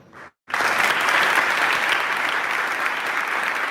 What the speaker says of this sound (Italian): È un applauso dal cuore quello che accoglie nel Salone della Curia Vescovile di Padova l'annuncio del vescovo della città Claudio Cipolla.